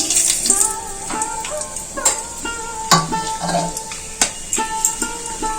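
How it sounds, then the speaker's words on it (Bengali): Bay leaf, cardamom, cloves and cinnamon sizzling in hot oil, a close crackling fry punctuated by sharp utensil clinks and some tonal background sounds. "একটা তেজপাতা তেলের উপরে দিয়ে দেবো গরম মশলা ফোড়ন দেব এলাচ লবঙ্গ দারচিনি"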